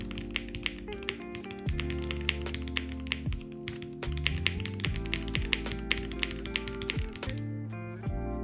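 Rapid test typing on a Tofu65 2.0 mechanical keyboard, with dense, steady clacking keystrokes and heavier spacebar thocks in a repeating pattern, close and clear with no talk.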